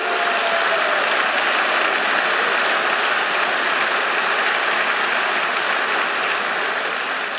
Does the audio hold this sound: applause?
yes